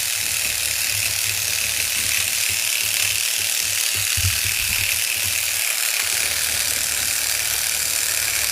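AddiQuick Turbo needle felting machine running steadily, a continuous close mechanical buzzing chatter of rapidly punching needles that stays constant throughout with no speech.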